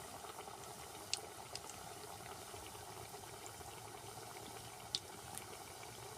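Badusha sweets frying in hot oil, a steady close bubbling hiss with occasional sharp pops and clinks, continuous and fairly even in level, with no voices.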